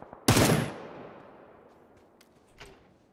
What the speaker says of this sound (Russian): Вот стреляет.